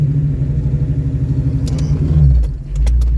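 Manual transmission car engine rumbling loud and close at low revs, then rising slightly as the clutch engages and the car pulls away, with faint clicks over the top.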